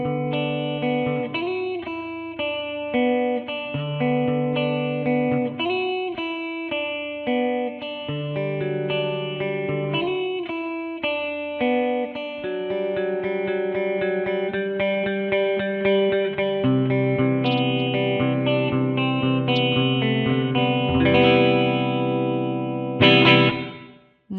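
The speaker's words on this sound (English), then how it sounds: "I'm going to begin with filtering at full, reverb time at 9, and both of our echo controls down." Death by Audio stereo reverb pedal from the Destroyer series, its filter at full and long reverb time, washing a sustained chordal instrumental line into a lush, continuous shimmer that swells steadily before cutting off abruptly at the end.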